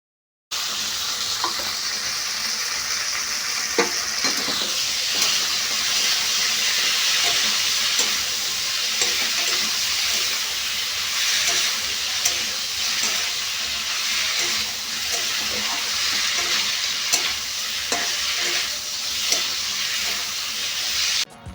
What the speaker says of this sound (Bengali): আদা বাটা দেওয়ার পরেও ভালো করে সবজিগুলোকে কষাতে হবে